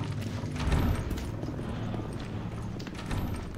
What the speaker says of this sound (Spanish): Por suerte se les oyen las pisadas cuando se acercan.